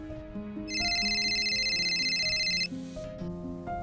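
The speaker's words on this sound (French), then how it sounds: "son téléphone a sonné." A mobile phone ringtone plays a bright repeating electronic melody, clear and close, with a high trilling phrase looping through the middle before the tune continues alone.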